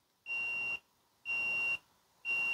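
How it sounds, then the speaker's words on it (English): Three short, high electronic beeps from a Dovoh K3-360G laser level signalling it is out of level, at a steady one-per-second pace, each about half a second long, clear and close with silence in between. "the laser beeps and flashes to let you know it's out of level"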